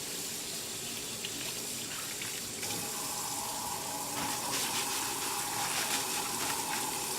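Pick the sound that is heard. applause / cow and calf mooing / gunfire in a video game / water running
water running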